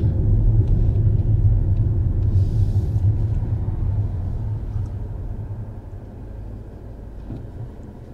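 Steady low road rumble from inside a car driving along streets in Dawson, Georgia, turning off onto a side road; a continuous, loud engine and tyre drone that slowly eases off, with no talking.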